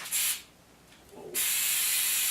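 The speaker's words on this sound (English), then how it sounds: "So we spray them? Let's spray it up." An aerosol can of Flex Seal sealant hisses in two bursts, a short spray followed by a pause and then a longer, loud, steady spray close by.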